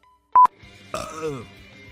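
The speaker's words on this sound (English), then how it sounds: "That's a burp this time." A single throaty burp with a falling pitch, close to the mic, recorded during a Splatoon 2 gaming session and preceded by a short electronic beep.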